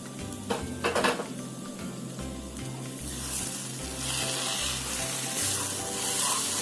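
Fish egg masala sizzling steadily in a pan, a continuous close frying hiss with repeated clinks and scrapes of a utensil stirring against the metal.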